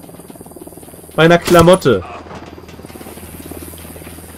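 A helicopter in the video game Ghost Recon Wildlands gives a continuous, fast rhythmic rotor chop throughout, while someone speaks briefly over it.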